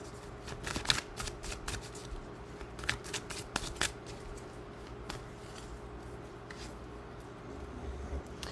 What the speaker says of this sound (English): Let's go ahead and pull just 3 of these guidance animal cards